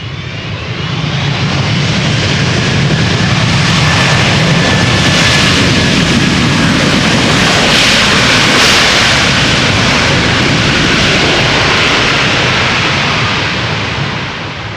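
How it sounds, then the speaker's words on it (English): A Delta Airlines jet, flight 136 from Detroit, roars loudly as it approaches head-on in rain, a broad continuous engine rumble and hiss swelling and holding steady for the whole stretch without any talk. "Delta Airlines flight 136 arriving from Detroit"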